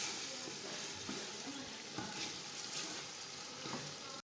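Tomatoes and green chillies dropped into a pan of frying masala, giving a steady close sizzle and crackle with occasional stirring scrapes throughout.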